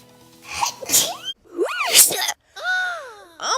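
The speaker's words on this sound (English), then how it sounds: "Ooh, I'm about to sneeze." A woman sneezes from makeup powder, three sharp sneezes with breathy build-ups and vocal moans between them, close to the microphone.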